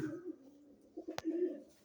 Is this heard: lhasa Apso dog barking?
no